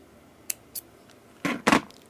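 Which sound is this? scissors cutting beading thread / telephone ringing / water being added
scissors cutting beading thread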